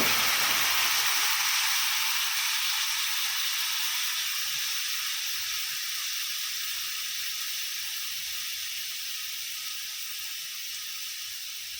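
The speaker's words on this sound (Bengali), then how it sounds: "আমি এবারে জল দিয়ে দেবো।" Water poured into a sizzling pan of vegetable curry, a loud close burst of hissing steam that slowly settles into a softer, steady sizzle, with no talking.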